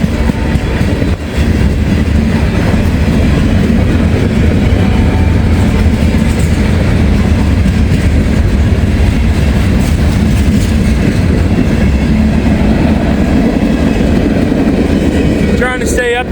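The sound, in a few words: train passing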